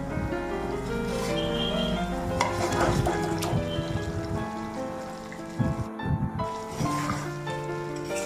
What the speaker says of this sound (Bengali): এবার দিয়ে দিচ্ছি ভেজে রাখা আলু।